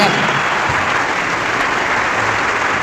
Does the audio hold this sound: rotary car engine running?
no